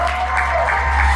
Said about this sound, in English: can we please just give a round of applause for this beautiful bride?